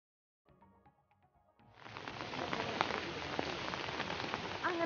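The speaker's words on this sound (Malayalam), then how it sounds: "നല്ല മഴ വന്നിറങ്ങിയപ്പോൾ നല്ല മഴയായി" Heavy rain at a resort in Wayanad, Kerala, off the Thirunelli road, starts suddenly after a quiet moment and builds into a dense, steady hiss of drops on surfaces.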